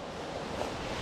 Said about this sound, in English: You can hear the creek's getting louder and louder.